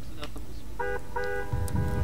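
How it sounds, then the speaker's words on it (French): A car horn in Forza Horizon 3 sounds in two short, clear honks during a roleplay traffic stop, with someone speaking French over and after them. "Klaxonnez un coup s'il vous plaît."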